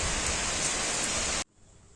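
Rain falls steadily in a dense, even hiss for about a second and a half, then cuts off abruptly into near silence.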